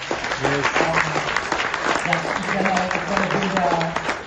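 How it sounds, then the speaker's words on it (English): Applause from the audience at a business strategy presentation in Phuket, a steady, fairly close clatter of many hands, with voices talking over it. "round of applause to everybody"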